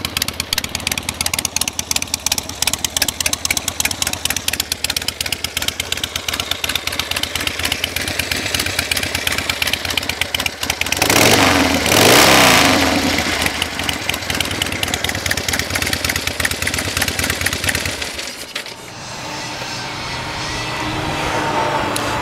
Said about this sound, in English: Starts right up. This old girl's still got a lot of life left in her. Got a nice smooth idle to it.